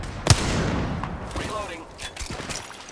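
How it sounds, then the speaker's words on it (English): Enemy gunfire in the video game Apex Legends, a loud opening shot followed by a dense burst of rapid automatic fire that tapers into scattered shots and impacts, close and overlapping. "The enemies are shooting at me."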